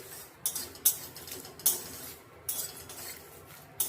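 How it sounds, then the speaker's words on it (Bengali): Spices for vegetarian ghugni are stirred in a frying pan: a metal spatula scrapes and clinks against the pan in short, irregular strokes, close and fairly quiet, with little audible sizzle. "মশলাটা হালকা ভাজা হয়েছে আর একটু ভেজে দেবো"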